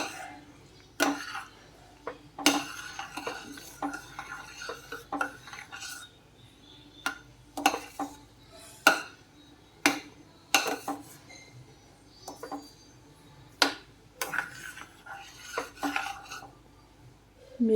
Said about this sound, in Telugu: మళ్ళీ ఇంకో కొంచెం నెయ్యిని అయితే వేసుకొని మళ్ళీ ఒకసారి కలుపుకుందామండి